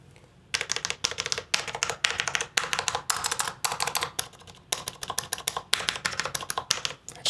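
Mechanical keyboard fitted with Tealios V2 switches, typed on in quick, crisp bursts of clacking keystrokes with short pauses between runs, close and clear with no talking.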